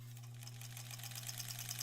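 A sewing machine stitching in the seams of a granny squares quilt runs steadily with a fast, even mechanical whir and rapid stitching clatter over a low motor hum.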